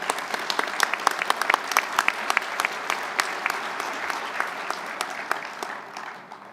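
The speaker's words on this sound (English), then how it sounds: "Let's give these motivated sailors a round of applause." A luncheon audience applauds honoured sailors at a military awards event, a sustained burst of many hands clapping with crisp individual claps standing out, fading slightly toward the end.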